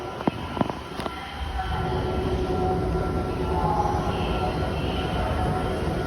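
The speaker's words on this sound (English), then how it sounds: "Just missed the train." A train rumbles steadily at a station platform on a southbound line, a low continuous roar with a few sharp clanks near the start, close and fairly loud, with no talking.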